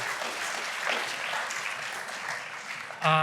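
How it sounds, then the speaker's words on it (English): An audience at a scholarship hall dedication gives a round of applause, a steady wash of clapping lasting about three seconds before a brief tonal sound cuts in at the end. "Let's have a round of applause for and thanks again to Eric for putting that together."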